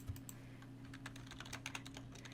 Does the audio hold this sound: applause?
no